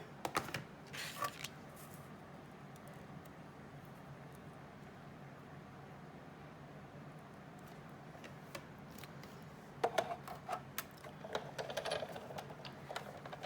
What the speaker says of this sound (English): Bring in our cutting machine.